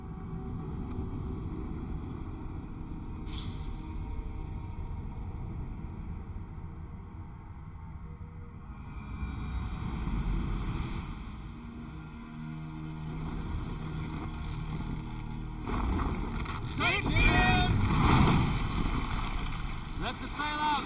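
A Viking sailing ship in Assassin's Creed Valhalla moves over open water with a steady wind and wave rush, the sea swelling louder toward the end while voices speak over it.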